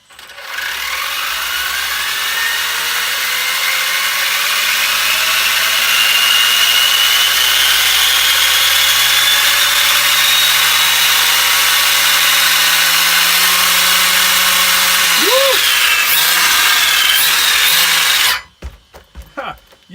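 A Losi Rock Rey RC rock racer with a Dynamite waterproof system on a 2S battery whines steadily and loudly for about eighteen seconds with rising and falling motor pitch, then cuts off abruptly.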